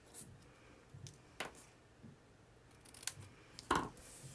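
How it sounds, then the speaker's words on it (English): Scissors cutting a small paper banner for a handmade card, a few crisp separate snips spread across a quiet moment, close but soft. "I'm just going to cut a little banner."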